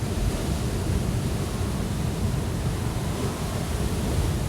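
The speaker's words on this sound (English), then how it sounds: "you're not disturbed by the sound of the waves" Ocean waves roll in a continuous broadband wash of surf, loud and close, with a deep steady rumble and no voices.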